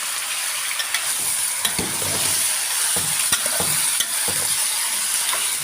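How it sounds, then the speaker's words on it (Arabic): Mahshi filling with tomato and bay leaves is stirred in a hot pan: a constant close sizzle broken by repeated scraping clicks of the spoon against the pan, with no voices. "واقلبها برده تقليبه كده"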